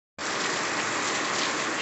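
Steady rain pouring down on an overcast afternoon in northeastern Brazil, a dense, even hiss that starts abruptly and holds at constant loudness with no voices.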